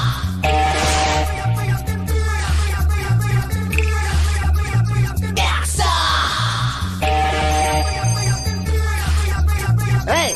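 A telephone rings with an incoming call in repeated bursts, set against a loud, busy backdrop with a steady rhythmic pulse.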